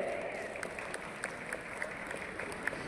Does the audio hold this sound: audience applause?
yes